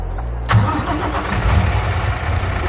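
A blacked-out Mack truck's engine in a video game cranks and catches, then settles into a loud, deep, steady idle as it warms up, close and unbroken by talk.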